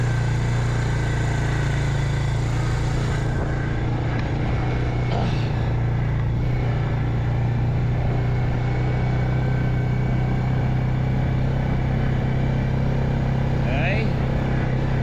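Off-grid homestead vehicle driving in push-button four-wheel drive, a steady low engine drone running continuously and fairly loud, with rain and faint background noise over it.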